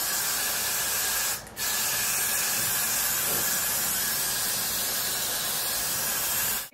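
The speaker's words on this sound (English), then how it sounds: "go ahead and spray your cap down onto your head with your Got to Be glue" Got2b glue sprayed onto a wig cap in a long, steady, close hiss that runs almost without a break, with one short pause near the start.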